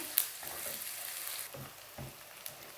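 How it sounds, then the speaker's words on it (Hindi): Chopped onions fry in a pan as a faint, steady sizzle, broken by a few soft scrapes and clinks of a utensil stirring them. "प्याज डालने के बाद थोड़ी देर के लिए हम इसे हिला लेंगे अच्छी तरह से ताकि सॉफ्ट हो जाए"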